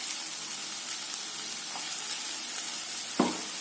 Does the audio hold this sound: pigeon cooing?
no